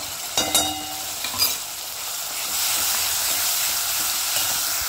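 Ginger paste hits hot oil in a pan for bhindi masala, a couple of soft clinks at first, then a steady bright sizzle that swells and holds, with no voices.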